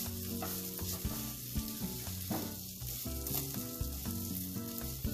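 Muthiya made from bottle gourd fry in hot oil with spluttering sesame seeds over medium gas heat, giving a steady, close sizzle with small pops throughout and no voices.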